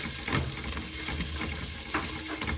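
A tablespoon of garlic sizzles in heated cooking oil for a chicken hot and sour soup, a dense, even hiss heard close up, with no one speaking.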